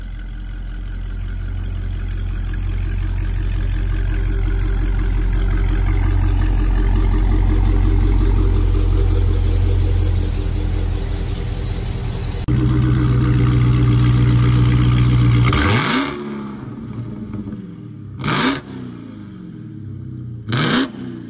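A Dodge Hellcat V8 with a catless exhaust holds a loud, deep, droning idle up close, then the engine cuts to a few sharp, separate rev blips near the end.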